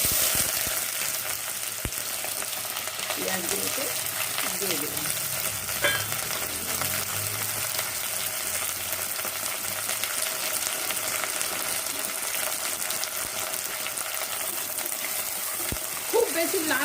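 Onions sizzle steadily in a hot pan with occasional scraping stirs, a dense continuous fry noise close by, with no talk.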